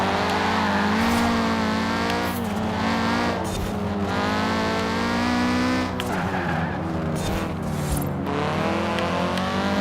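A 2015 Audi TT S Coupe with a race build drives hard in Forza Horizon 4; its engine roars continuously and rises and falls through gear changes, while its tyres squeal through turns.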